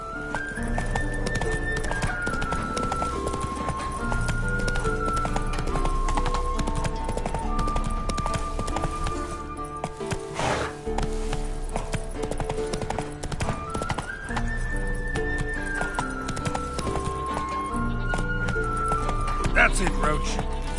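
Hooves of Roach, a horse in a video game, clip-clop at a steady gallop, joined by whinnies and a rider's spoken commands over a continuous musical score.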